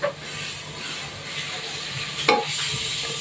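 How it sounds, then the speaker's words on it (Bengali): Onion, ginger and garlic paste sautés in a hot pan with a continuous close sizzling hiss and a brief scrape of stirring near the end. "আমি পেঁয়াজ আদা রসুন বাটা খুব ভালো করে এখন কষিয়ে নিব"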